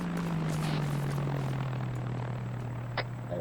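In a video game, an aircraft approaches from the north with a steady low propeller-like drone holding throughout, constant and moderately close, with no talk over it.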